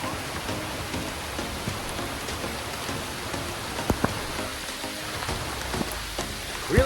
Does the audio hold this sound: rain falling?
yes